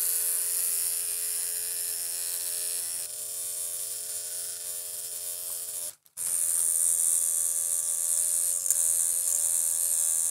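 A tattoo machine runs at 9 volts and 84 hertz for slow, soft shading, giving a steady close buzzing hum that cuts out for a moment and then resumes.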